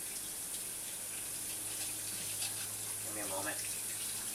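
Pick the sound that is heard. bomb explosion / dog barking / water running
water running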